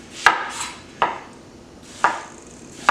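A kitchen knife chops through an onion on a cutting board for French onion soup, with four crisp, close strikes spaced about a second apart and no talking.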